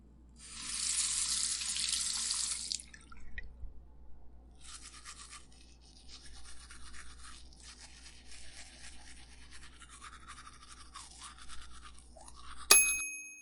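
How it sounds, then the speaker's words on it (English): Toothbrush bristles scrub teeth in a close, steady brushing rasp, with a burst of running tap water into a sink at the start and a short clatter at the end. "Move the brush in tiny circles on every tooth, and don't forget the front, back, and sides."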